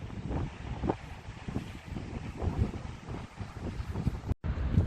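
Steady gusting wind buffets the microphone on a chilly, clear morning by the water, a broad rumbling roar that swells and eases without a break, with no voices over it.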